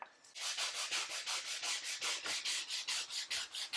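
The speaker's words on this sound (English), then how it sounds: "if you've never sanded before, it is pretty simple" Hand sanding of wooden kitchen cabinets being prepped for paint: a steady run of about a dozen rhythmic back-and-forth rasping strokes, close and fairly loud, with no talking.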